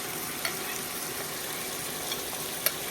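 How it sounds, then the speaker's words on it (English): Garlic and two small sweet red peppers frying in a pan, a soft steady sizzle with a few light clicks of stirring, quiet and close with no talking. "So I'm going to add the garlic and I have some two small red peppers."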